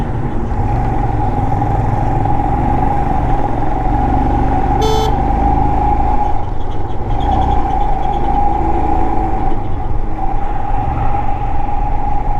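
A Royal Enfield motorcycle rides a narrow single-lane mountain highway between Batalik and Leh in Ladakh, its engine a steady, loud, continuous drone mixed with rushing road and wind noise and one brief high chirp partway through.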